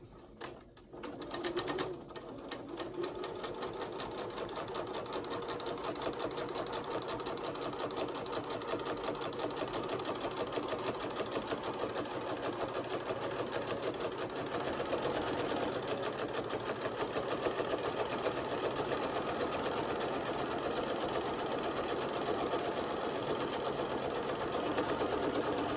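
A sewing machine runs continuously, stitching shirring along the hems of shirt cuffs, with a fast, even mechanical chatter that stays close and steady throughout and nothing else over it.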